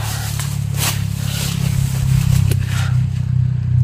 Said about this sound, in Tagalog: may marinig tayong dumadaan na motor kasi may kalsada dyan sa ibabaw